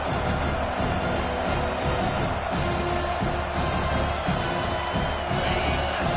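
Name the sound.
football stadium crowd cheering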